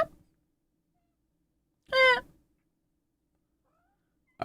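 A cat lets out one clear, bright meow in a quiet room, close and distinct, with faint clipped sounds at the very start and end.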